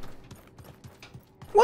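A horse's hooves clip-clop at a steady, even trot in the video game Realm Royale, with soft low thuds landing evenly beneath faint game sounds before a sudden louder noise at the end.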